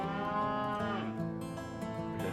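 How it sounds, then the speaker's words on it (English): Cows moo loudly and continuously in long, low, overlapping calls outdoors near the Colorado River in the Rocky Mountains in fall, with no talking. "got cows going crazy"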